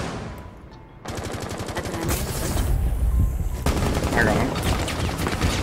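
Rapid automatic gunfire from the Rainbow Six Siege video game, loud and sustained in dense bursts, with brief player speech over the shooting.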